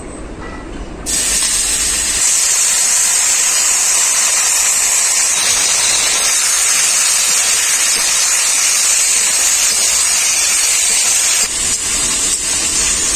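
Mashed potatoes dropped into hot fish-frying oil with black cumin, giving a loud, sustained close-up hiss and sizzle that begins abruptly and stays steady throughout.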